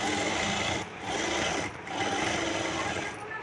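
A sewing machine running a double line of stitching on an Afghani salwar, a steady close whirring buzz in three runs separated by brief pauses, with no talking.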